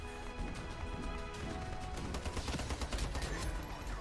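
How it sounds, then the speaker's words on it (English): A SCAR-H rifle in the shooter game Ironsight, fired in short bursts: fairly faint, rapid cracks grouped together over a steady bed of game noise, with no one talking. "So what can you do to help offset such drawbacks as heavy recoil and poor hipfire? Well, fire in bursts."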